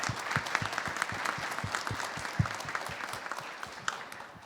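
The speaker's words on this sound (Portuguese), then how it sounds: "Uma salva de palmas para Jean Gereissati Neto." A congress audience at the Six Sigma Brasil international congress applauds an honoree, with steady moderate clapping and some distinct individual claps standing out near the listener, no talk over it.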